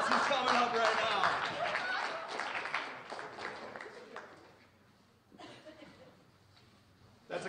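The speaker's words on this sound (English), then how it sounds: "Big round of applause." A Stark Tank audience claps as a parent comes up on stage. The applause is strongest at first and then tapers off under voices and some laughter, and a few scattered claps return near the end.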